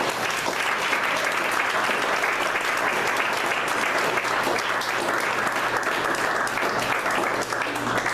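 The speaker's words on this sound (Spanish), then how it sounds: "dale un fuerte aplauso al Señor" A church congregation claps in sustained, vigorous applause, a dense and loud wash of hands filling the room evenly for several seconds, with no voice on top.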